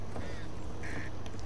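Crows in the zombie shooter video game Back 4 Blood give a couple of short, harsh caws over a steady, noisy game background.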